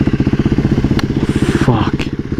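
BMW S1000RR motorcycle riding nearby, a loud pulsing engine with a rapid regular rumble, plus brief clicks and a short scraping rise near the end.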